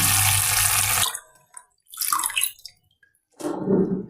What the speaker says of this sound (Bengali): এই যে পুঁই শাকটা ধুয়ে নিলাম